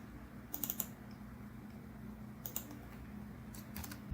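Soft clicks of a computer keyboard typing a semicolon, a few quiet keystrokes in small clusters over a steady low hum, close and faint.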